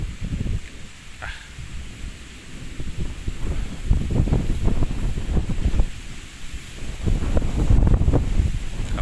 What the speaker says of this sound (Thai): ลมค่อนข้างแห้งครับลมแห้ง